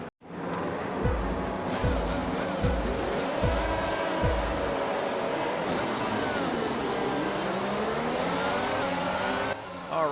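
A pack of F1 race cars in the F1 22 game launches off the grid at the Saudi Arabia round, engines roaring loud and continuous with rising rev sweeps and gear changes, many cars layered close together.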